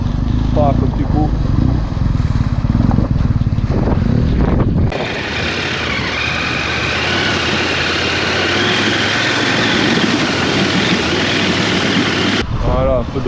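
Off-road trail motorcycle ridden in Iceland, its engine droning loudly and steadily close by, with wind noise, and people talking over it in the first few seconds.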